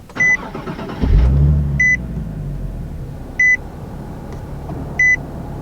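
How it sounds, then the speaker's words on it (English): A manual Nissan 370Z Nismo starts by push button: a chime, then the engine cranks and catches with a loud low roar settling into a steady idle, while a warning beep repeats every second or so. "put your foot on the brake and put on the clutch, and then push the button to start."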